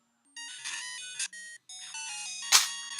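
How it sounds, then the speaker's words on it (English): Chiptune background music from the Game Boy game DuckTales plays alone, a bright square-wave melody over a simple bass line with brief pauses between phrases and one noisy burst near the end. "if you can hear that music in the background, it's DuckTales"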